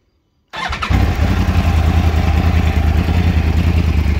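A 2009 Yamaha R1 Crossplane sport motorcycle engine fires up after a short silence and settles into a loud, steady, raspy idle nearby.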